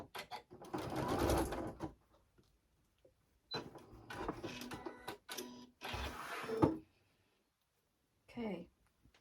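A sewing machine stitches a quilt seam in several short bursts of fast mechanical whirring, close and moderately loud, separated by pauses, with a voice talking between and over the runs.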